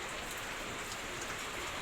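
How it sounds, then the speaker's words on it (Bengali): Heavy rain falls in a steady, dense hiss of drops on surfaces, even and continuous throughout the short stretch, with no voices. "ভাত খাচ্ছিলাম তখন শুরু হয়ে গেলো পুরো জোর জোর বৃষ্টি।"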